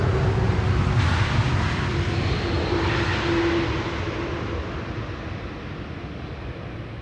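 KLM Boeing 777-300ER airliner on landing approach to Schiphol's Polderbaan 18R, a loud broadband jet roar with a steady engine tone that slowly fades over several seconds, with no voices.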